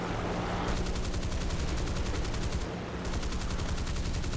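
A naval fighter plane's guns fire in War Thunder, a rapid, loud, continuous machine-gun rattle of evenly spaced shots with one brief break.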